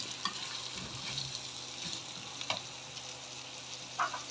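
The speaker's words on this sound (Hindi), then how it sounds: "इसको इसका कलर चेंज होने तक मैं हल्का सा फ्राई करूँगी" Chicken pieces fry with cloves and black pepper for biryani in a quiet, steady sizzle, with occasional soft clinks and scrapes of a spoon stirring in the pan.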